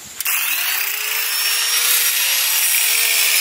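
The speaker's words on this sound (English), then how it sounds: "I know we should be using a sand belt machine, but a grinder will do." A grinder smooths the edges of a custom-made boat motor mount, with a loud, sustained high-pitched whine and rasp after a brief start, continuous and close up.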